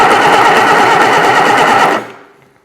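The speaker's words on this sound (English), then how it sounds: "cranking it to the death to see if the oil light technically goes out" Reliant Super Van engine grinding over on its starter motor, a loud, rapid, steady mechanical churning that runs for about two seconds and then cuts off abruptly, leaving a brief fading ring.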